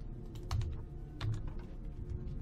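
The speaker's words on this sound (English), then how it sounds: "Come on, keyboard, stop fighting me." Steady typing on a computer keyboard, a close, continuous patter of key clicks with a few louder strikes, heard alone.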